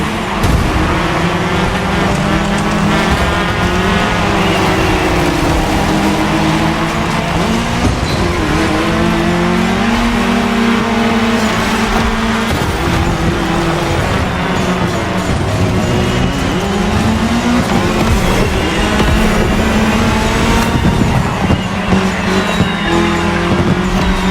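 Race cars on tarmac in The Crew Motorfest, a cross-terrain racing game: engines roar continuously with shifting revs, tire squeals and skids, loud and sustained with no pause.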